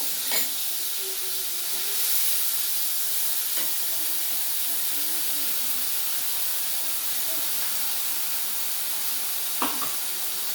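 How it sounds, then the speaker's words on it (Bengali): Ground ginger, cumin and pepper paste frying in a pan for a papaya and lentil-fritter curry, giving a steady, soft sizzling hiss throughout with a few faint clinks. "এবার বেটে রাখা মশলাটাও আমি দিয়ে দিচ্ছি, আদা জিরে গোলমরিচ বাটাটা।"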